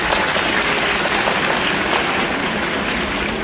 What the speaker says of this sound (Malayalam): എന്നെ ഇഷ്ടമുള്ള എല്ലാവരും ഒന്ന് കൈയടിക്കണം.